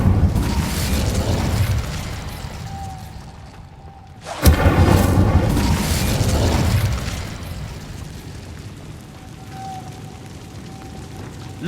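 A fire spell bursts in Hogwarts Legacy, a sudden loud whoosh and crackling blast that swells and then fades into a rumbling tail.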